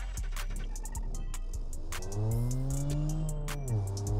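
A car engine idling and then revving during a one-litre fuel economy test of a manual six-speed car, with the pitch rising and falling through a steady rumble and sharp clicks and taps near the microphone.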